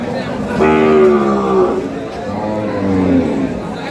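A dairy cow lows twice, long and close, at a busy Bangladeshi cattle market, with Shahiwal, Sindhi and local dairy breeds for sale, while someone talks over it and market chatter carries faintly behind.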